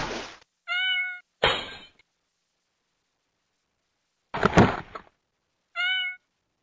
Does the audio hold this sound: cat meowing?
yes